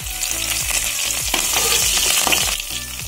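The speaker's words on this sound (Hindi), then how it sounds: "अब हम इसमें राई सौंफ ऐड करेंगे, इन्हें हल्का सा फ्राई करेंगे।" Mustard seeds, fennel and curry leaves fry in hot oil, a loud close sizzle with sharp crackles and pops, punctuated by the rhythmic scrape of a spatula stirring the pan.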